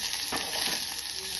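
Dal tempering sizzles as it is sautéed in a pan with peeled green chillies, a steady close crackle with brief stirring bursts and no talk.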